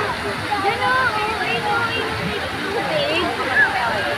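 Water splashes and pours steadily from a colorful fountain in Rizal Park at night, a continuous rushing wash with people talking over it nearby.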